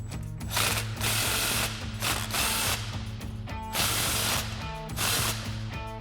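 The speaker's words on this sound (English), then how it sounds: "Next, we'll snug down our outlet clamp. Again, with our 15 mil socket." A ratchet with a 15 mm socket snugs down an exhaust outlet clamp on an EcoBoost F-150 being fitted with an MBRP Armor Plus single exhaust, giving close, loud runs of rapid pawl clicking in several bursts.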